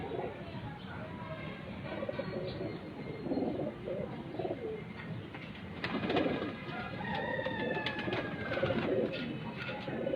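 Soft pigeon cooing repeats over steady background noise, with a few brief chirps mixed in; the birds sound fairly close.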